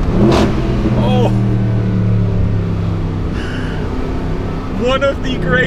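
A Mercedes-AMG Black Series engine revs hard and loud nearby, a steady throaty roar with crackling bursts, while voices exclaim over it.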